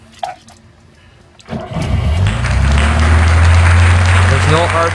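A Lada VAZ-2101 with its choke pulled out cranks briefly and catches, then settles into a loud, steady, close engine roar at raised revs.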